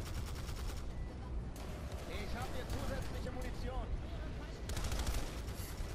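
Bursts of automatic gunfire in Planetside 2, rapid rattling volleys at the start and end with quieter shooting between, all under continuous talk.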